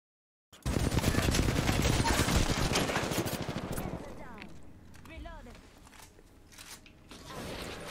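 Rapid automatic gunfire in Apex Legends fills the first few seconds loudly and densely, then gives way to quieter in-game sounds and scattered effects while a person talks.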